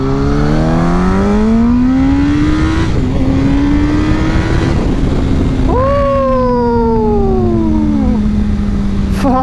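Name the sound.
Yamaha R1 motorcycle engine revving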